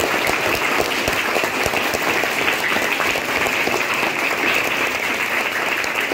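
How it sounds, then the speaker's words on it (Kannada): A large crowd at a World Environment Day 2025 gathering bursts into loud, sustained applause: a thick, even wall of clapping from many hands that holds steady for about six seconds with no voices. "ಜೋರಾದ ಚಪ್ಪಾಳೆ ಬರಲಿ, ಹೆಮ್ಮೆ ಪಡಬೇಕು"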